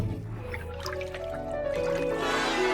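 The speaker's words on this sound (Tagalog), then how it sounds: "Tubig, ang ganda!" Water pours and drips into a cartoon bathtub as it fills, a close trickling and splashing stream that grows slightly fuller toward the end.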